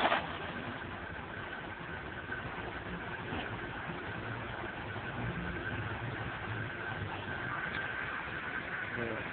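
A car engine, run on a fuel-saving oxygen gas saver, idles steadily at a low, even rumble throughout, with light background noise and no clear voices.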